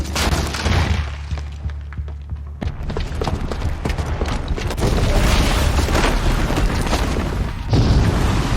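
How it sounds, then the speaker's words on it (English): A booby-trapped bomb explodes in the video game Horizon Zero Dawn: a deep low rumble swells into a loud, sustained broadband roar of blast and debris that fills the whole stretch, with no talking. "the booby trap on the bomb downstairs is gonna get set off"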